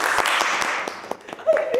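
Audience applause at a Malayalam film event, a dense wash of clapping that starts loud and thins out over under two seconds, with a voice and a brief tone cutting in near the end.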